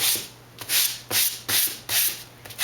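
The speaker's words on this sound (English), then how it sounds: "On the leading edge, I sand just a little." A foam wing core's leading edge is hand sanded in short, rhythmic back-and-forth strokes, each a close, bright scratchy rasp separated by brief pauses.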